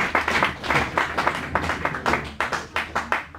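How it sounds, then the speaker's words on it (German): A small group claps for an ice hockey team at a press conference after EHC Bayreuth versus EC Peiting, with sharp close claps in a loose rhythm that thins toward the end. "Trotzdem Anerkennung und Applaus für unser Team."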